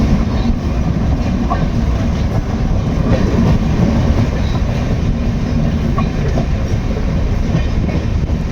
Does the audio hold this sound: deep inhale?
no